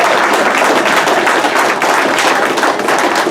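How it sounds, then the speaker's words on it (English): Banquet audience clapping in a hall, a dense, even burst of applause from many hands that stays loud and steady for a few seconds, with no talking over it. "let's give a round of applause for the mothers in here tonight"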